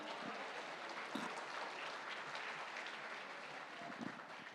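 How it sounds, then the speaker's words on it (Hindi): Audience applause at a summit event in a hall, steady sustained clapping from a large crowd throughout, with a few louder claps and no speech over it. "बहुत जोरदार तालियां।"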